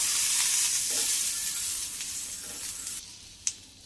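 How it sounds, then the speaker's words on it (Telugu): Butter sizzles on a hot pan for frying bread pizza, a close, steady hiss that gradually softens, ending with a sharp utensil tap. "ఇప్పుడు మనం ప్యాన్ పైన ఇది ఫ్రై చేసుకుందామండి"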